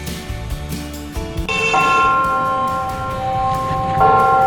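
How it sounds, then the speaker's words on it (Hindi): The clock tower bell in Mussoorie chimes twelve o'clock. After a short stretch of background noise, a sustained, resonant bell tone rings out, and another strike comes near the end, heard outdoors at moderate volume. "मसूरी में घंटाघर भी है और मेरे बैक साइड में आप देख रहे होंगे 12 बज रहे हैं और आवाज़ आ रही है।"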